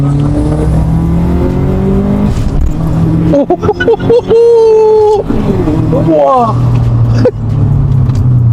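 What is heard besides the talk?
modified car engine revving, blow-off valve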